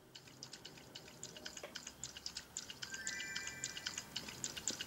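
Soft, rapid lapping of water by a puppy in Nintendogs, a quick rhythmic series of small wet clicks, faint and steady, with a synthetic game-like quality.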